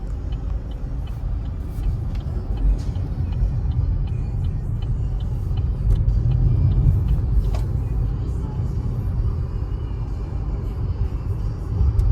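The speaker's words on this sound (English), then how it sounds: "All in all, I really enjoyed driving this Trax, okay?" Steady low road rumble and engine drone from inside a 2024 Chevrolet Trax while driving, continuous and fairly loud with faint ticks above the hum and no talking.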